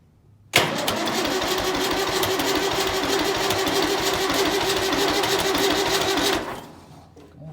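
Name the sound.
990 engine cranking and starting in the cold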